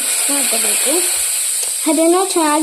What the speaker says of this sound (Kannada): ಸ್ವಲ್ಪ 1 ಹಿಡಿ ಸಾಸಿವೆ ಹಾಕೋಬೇಕು.